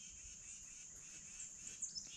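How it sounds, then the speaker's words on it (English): Birds chirping in the morning around a homestead log cabin, a faint steady high twittering with insect-like buzz, a few brief louder chirps near the end, no talking. "You can hear the birds chirping."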